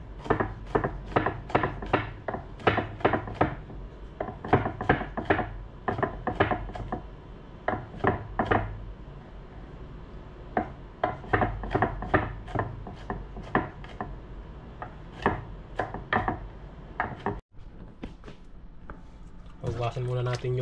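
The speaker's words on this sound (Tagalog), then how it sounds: "Chop-chop natin yung bawang." A knife chops garlic on a cutting board in quick, steady taps that run nearly nonstop, with a brief break near the end before the chopping resumes.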